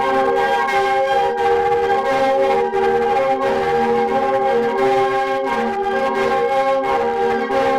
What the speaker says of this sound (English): Here, we are welcomed by the sound of the lusheng.